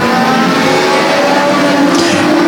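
Legend cars racing around an oval speedway, a dense steady drone of several small engines blending together at full throttle, loud and continuous without talk.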